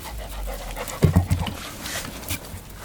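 A dog pants close by in quick, breathy bursts, a few short huffs clustered in the middle of an otherwise quiet indoor moment.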